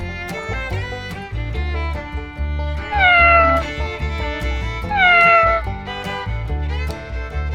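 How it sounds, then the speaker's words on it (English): A cat meows several times, with two longer, louder drawn-out cries in the middle, over a low rumbling background. "cat."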